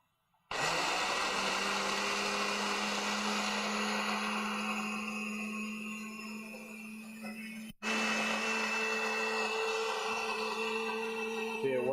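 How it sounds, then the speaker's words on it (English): A blender motor roars at full speed with a grinding, gritty whine as it liquefies green foundry sand, briefly cuts out, then starts up again loudly and steadily. "cap on the blender, and we're going to liquefy."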